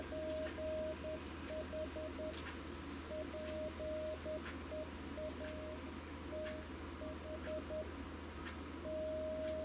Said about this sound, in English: You can start to hear the tone changing.